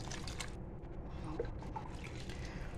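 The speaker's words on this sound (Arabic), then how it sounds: "تيجي نسقي الكوسة المحشية باللحمة المفرومة والرز" Liquid is poured gently over zucchini stuffed with minced meat and rice, giving a faint, soft trickle and light dripping in a quiet room.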